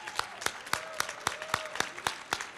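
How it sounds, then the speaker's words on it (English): Applause for awardees at a Women's History Month celebration comes as rhythmic, evenly spaced claps, roughly four per second, close and crisp over a faint background murmur. "let's recognize them with one last round of applause"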